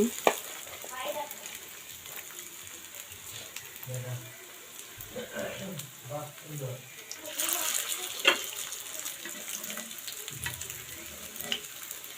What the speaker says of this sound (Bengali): চিংড়ি মাছের পাকোড়াগুলো আমি এখন খুব সুন্দর করে তেলে ভেজে নিচ্ছি